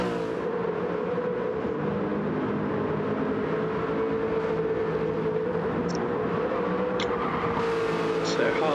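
An Aston Martin GT4 race car in a sim racing game powers out of a corner, a steady loud engine drone building as it accelerates, running continuously throughout.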